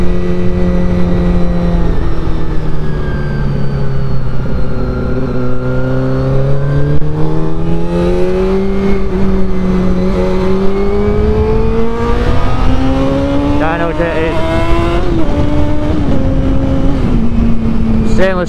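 A motorcycle fitted with an Ignitec CDI running an HRC map, dyno jetted, with a stainless steel exhaust and stubby can, its engine droning steadily and rising in pitch as it revs, close and loud throughout.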